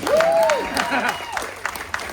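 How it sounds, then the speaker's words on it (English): Scattered applause at a wine shop ribbon-cutting event, a short burst of clapping that follows a whistle and is mixed with voices, then thins out into a few isolated claps. "We have a round of applause for the world-famous Tom Reifert,"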